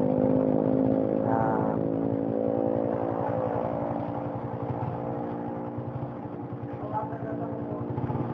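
A motorcycle engine idles and putters close by with a steady low throbbing rumble, its pulse loosening slightly as it runs on, while distant voices murmur in the background.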